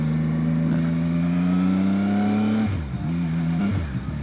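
A CFMoto 675SR-R motorcycle engine, a 2025 model, holds a loud, steady mid-rev drone up close, then dips and rises in quick revving blips toward the end, with no talk.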